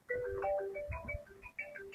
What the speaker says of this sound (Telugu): ఫోన్ చేస్తున్నాడు ఆడే, చూడండి నేను ఫోన్.